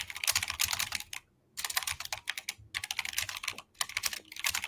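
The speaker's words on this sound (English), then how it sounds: "what are you typing?" Typing on a computer keyboard, with rapid clusters of close clicking keystrokes in bursts separated by brief pauses, sounding alone with no talk.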